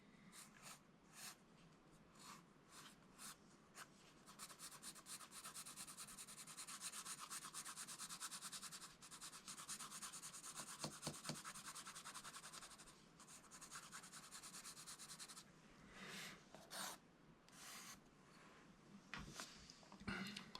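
A pencil shading under a Betty Boop drawing: soft, steady scratchy rubbing strokes, quiet and close, in dense back-and-forth bursts with brief pauses.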